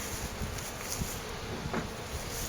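Honey bees roar inside a hive opened for its first inspection of the year, a steady, dense, agitated buzz that fills the whole clip at close range, with faint rustling and handling noises.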